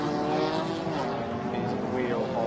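GT4 race cars at Bahrain accelerate as a pack, a dense layered engine drone with rising pitch sweeps, continuous and fairly loud under a commentator's voice.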